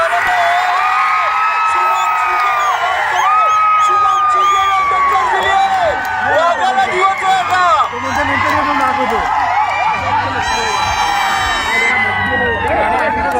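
Crowd of spectators cheering and whooping at a grand final match between Waghjai Kolkevadi and Daspati of Chiplun: a loud, continuous roar of many voices with shouts and whistles rising over it, and a commentator speaking throughout.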